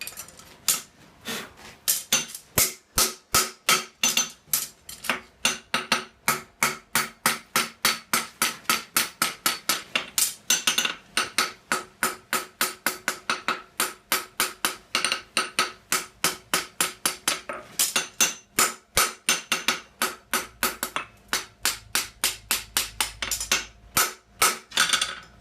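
Hammer forging the hot heel of a horseshoe on an anvil, a long series of sharp, ringing metallic blows in a steady rhythm with brief pauses, close and loud.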